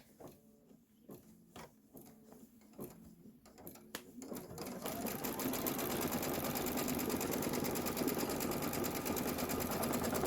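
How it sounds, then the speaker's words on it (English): An embroidery sewing machine stitches quilt fabric held in a hoop. A few slow, separate mechanical thumps come first, then the machine runs up to a loud, steady, fast rhythmic stitching drone that carries on to the end. "So we're going to stitch it down."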